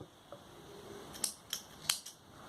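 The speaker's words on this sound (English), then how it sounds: "Do chain 1 and snip off this yarn." Scissors snip through crochet yarn in three or four crisp, sharp cuts spaced about half a second apart, close and clear against a quiet room.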